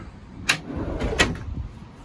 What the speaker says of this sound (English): pull out cooler drawer